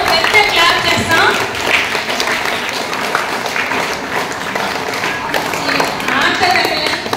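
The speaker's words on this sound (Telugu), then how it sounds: "సో చేసిన వాళ్ళందరికీ మేము పెద్ద క్లాప్ చేస్తాం." An audience at a Navarathri first-day women's association celebration bursts into a big round of clapping, loud and sustained, with cheering voices mixed through it.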